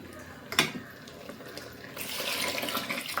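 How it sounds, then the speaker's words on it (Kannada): Water splashes and pours into a cooking pot for a couple of seconds after a brief knock, a soft, close liquid rush. "ಮಿಕ್ಸಿ ಜಾರದ್ದೆ ತೊಳೆದಿರೋ ನೀರನ್ನ ಆ್ಯಡ್ ಮಾಡ್ಕೊತಾ ಇದ್ದೀನಿ"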